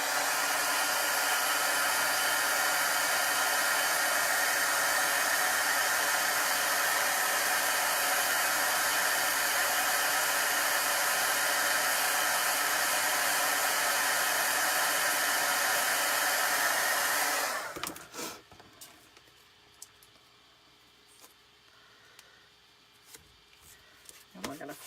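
A hair dryer blows loudly and steadily on a Chalk Couture craft project for about seventeen seconds, then shuts off, leaving near quiet with faint handling noises.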